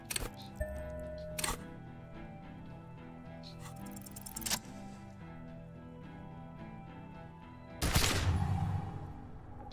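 Pistol shots in the Disco Elysium video game: about four sharp, loud bursts spaced several seconds apart, with the last one longest and noisiest, over a soft sustained tonal game soundtrack.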